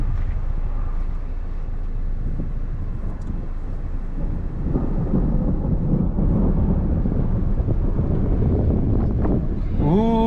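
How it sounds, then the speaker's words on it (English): Thunder rumbles through a storm in southern Oklahoma as a sustained low, broad roar that swells and fades over several seconds, mixed with wind noise. It is loud and continuous with no clear speech. "Ooh, I hear the thunder."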